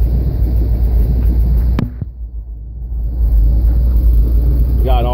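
A 1977 GMC K15 pickup truck engine idles with a steady, loud low rumble and throb, a brief knock breaking it once, and a voice speaking faintly near the end.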